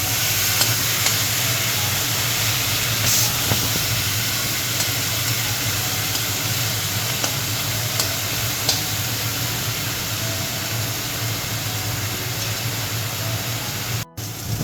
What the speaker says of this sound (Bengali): এগুলোকে হালকা ভেজে তারপর দিয়ে দেবো ঝোল।